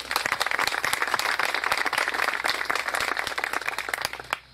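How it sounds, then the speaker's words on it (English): An audience applauds steadily for Dennis at a community gathering, dense clapping filling the space at close range until it cuts off abruptly at the end. "Let's give him a round of applause."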